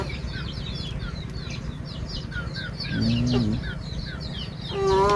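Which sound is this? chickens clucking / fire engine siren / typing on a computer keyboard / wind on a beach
chickens clucking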